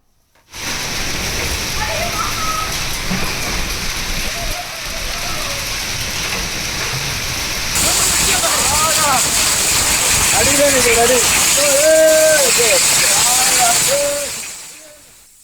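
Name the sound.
hailstorm rain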